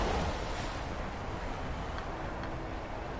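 Swimming in Anthem brings a steady, loud rush of water and wind-like noise that fills the whole stretch without pause or voices.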